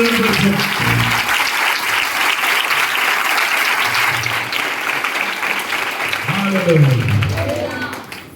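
A congregation claps steadily and loudly in a prayer house, sustained applause filling the room while a preacher's voice and crowd voices come through over it.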